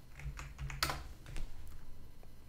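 Typing on a computer keyboard, heard as a few quick, faint key clicks in a short burst over quiet room noise.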